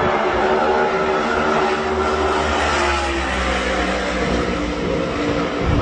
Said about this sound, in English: you listen to some of other people's clips, other people's videos, and the car sounds not as different